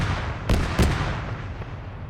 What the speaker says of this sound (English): there's a LAV firing at him